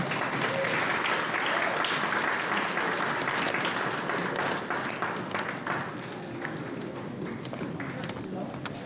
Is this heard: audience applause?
yes